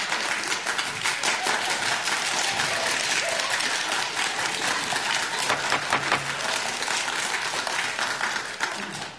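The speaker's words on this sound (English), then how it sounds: "Those people clapping?" Dense, sustained applause from an audience at a city council special meeting in Cupertino, steady hand clapping filling the room from start to finish with a faint murmur of voices underneath.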